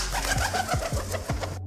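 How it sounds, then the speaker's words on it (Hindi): Pigeons take off close by, their wings clapping in a short burst of rapid flaps that fade out after under two seconds, with a soft coo mixed in. "सुनिए कैसी आवाज आती है जब कबूतर उड़ते हैं"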